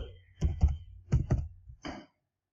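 Keys clack on a computer keyboard as a command is typed, arriving in short clusters of two or three quick strokes with brief pauses between them, clear and close in a quiet room.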